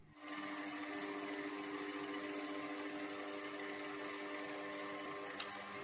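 A light Proxxon milling machine runs a starter drill into unmarked steel, a steady whining hum with tonal ringing that holds evenly throughout, close by, with no talking.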